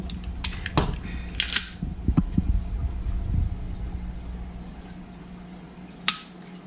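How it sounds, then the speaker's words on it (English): Dry-fire trigger pull on a Springfield HellCat pistol: a few sharp, faint mechanical clicks near the mic, the loudest clack arriving alone late in a quiet room with low hum. "Let's see what the trigger feels like."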